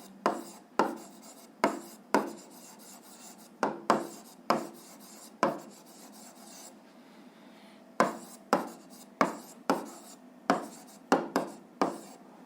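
A pen or marker writing by hand on a surface, with a steady run of short scratchy strokes in a near, repeating rhythm and a short pause midway, with no talking.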